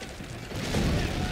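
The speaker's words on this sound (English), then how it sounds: "all these freaking world explosions are wrecking me" Dense, continuous rumbling blasts and crackling gunfire from a vehicle-combat video game match, building slightly louder toward the end with no clear gaps.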